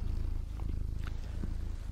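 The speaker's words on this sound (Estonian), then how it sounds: "Ah, kiisu!" A cat purrs close up, a low steady rhythmic rumble pulsing evenly throughout, with no talking.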